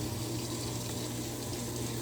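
Steady gushing of water running into a washing machine, a continuous close hiss and pour with a low hum beneath, no voices heard.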